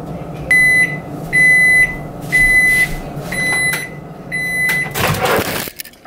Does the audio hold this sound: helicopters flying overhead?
no